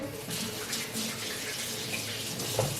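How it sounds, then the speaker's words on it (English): Tap water runs steadily while hands are washed in a kitchen sink during sushi roll preparation, a soft continuous splashing stream near the microphone with a small clink toward the end. "Let me wash my hands real quick"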